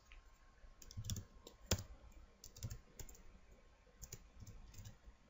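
Someone types a web address on a computer keyboard, a quiet, close run of irregular clicking keystrokes with a few sharper taps and no voice.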